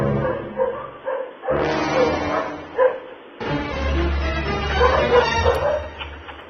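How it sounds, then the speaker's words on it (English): Several large dogs bark and yip in bursts, fairly loud and near, with some whimpering and a steady low rumble underneath. "there are what sound like large dogs barking in"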